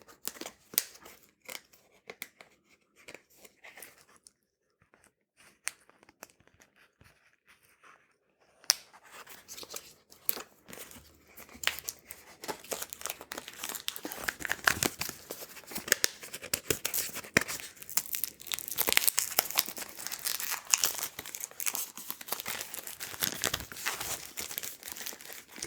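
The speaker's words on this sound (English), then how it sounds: "let's tear off the plastic here" Plastic wrapping is torn and crinkled off a Google TV box, with quiet scattered rustles at first, then dense, loud bursts of crackling and ripping up close.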